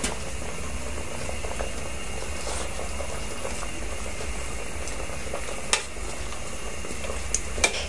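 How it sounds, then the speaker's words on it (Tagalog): Fish soup with vegetables simmers at a rolling boil in a pot, a steady close bubbling broken by a few sharp pops and clicks, with no one talking. "Tapos pakukulo lang natin ng madali lang isang beses"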